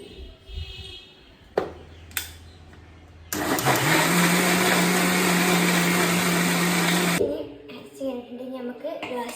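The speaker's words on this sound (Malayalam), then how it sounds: "ഇനി നമുക്ക് മിക്സി ഉണ്ട്." A mixer grinder blends a banana shake with sugar in a home kitchen, giving a loud, steady whirring roar for about four seconds, with quieter handling sounds before and after.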